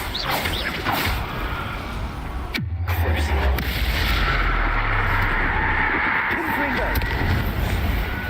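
A Confringo fire-blast spell explodes in Hogwarts Legacy, a heavy booming burst with a deep rumbling tail that cuts through dense, loud combat noise while a voice speaks.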